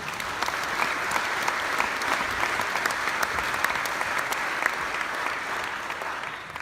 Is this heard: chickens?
no